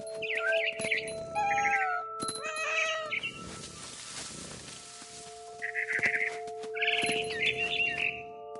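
Cat in the video game What Remains of Edith Finch meowing several times in two bursts, with loud drawn-out cries and a quieter stretch between, alongside steady tonal background music and some faint bird chirps.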